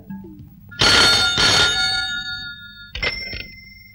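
A telephone rings in a Hindi comedy scene, two long bright trills followed by a shorter, fainter pair, loud and close with nothing else around them.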